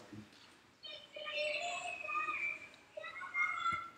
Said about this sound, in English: children playing,